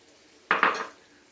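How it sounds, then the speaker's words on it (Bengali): A spoon clatters once against a pan while sour yogurt is stirred into spices for a Bengali fish curry, a brief close metallic scrape and clink in an otherwise quiet kitchen. "দইটা দেওয়ার পরে মশলার সাথে খুব ভালোভাবে দইটাকে মিশিয়ে নেব।"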